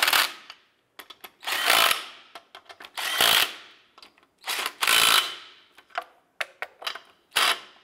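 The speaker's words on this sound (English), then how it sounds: "Once we get these on, we'll go ahead and snug them down." An impact or power tool snugs down the wheel lug nuts on a 2001-2005 Honda Civic: a series of loud, close bursts of rattling, buzzing hammering, each lasting about half a second, separated by short pauses and quieter clicks.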